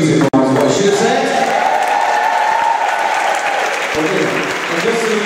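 Sustained applause from a choir concert audience in Ayrshire fills the hall, steady and dense throughout, with a brief dip near the start.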